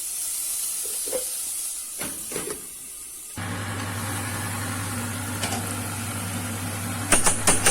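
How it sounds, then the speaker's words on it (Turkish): Onions sauté in oil in a pot with a steady, close sizzling hiss. A few clinks of a utensil come near the end. "Soğanlarımız pembeleşinceye kadar kavuralım arkadaşlar"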